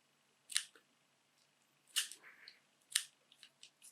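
Scissors make three crisp, close snips at even intervals, each with a short trailing rustle, as a single material is trimmed on a jig shrimp fly over near-silence.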